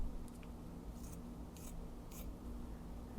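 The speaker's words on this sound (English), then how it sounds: "Some good cutting sounds there." Quiet snips of scissors cutting fringe on a DIY craft project, three or four short, close, crisp cuts against a soft steady background hum.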